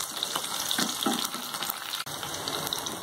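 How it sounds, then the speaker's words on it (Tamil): Onions sauté in a clay pot with hot oil and fried mustard seeds, giving a steady close hiss and sizzle throughout, with a brief dip near the end. "வெங்காயம் வதங்கட்டும்."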